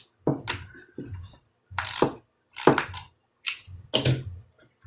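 A hand ratchet tightens a part on a Rustler RC car, giving about six short bursts of close, crisp clicking separated by brief pauses.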